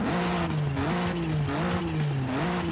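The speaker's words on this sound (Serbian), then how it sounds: "Pravi BMW ovo zvuk" A BMW i8 in Forza Horizon 5 sends out a steady, close engine drone with a whirring, electric-like whine that rises and dips slightly in pitch, loud and continuous with no talk over it.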